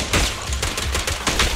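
Rapid gunfire bursts in the Zenless Zone Zero video game, loud and dense, with repeated shots running continuously and a low rumble beneath.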